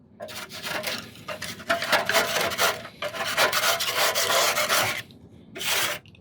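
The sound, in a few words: scraper tool scraping the inside of a gas grill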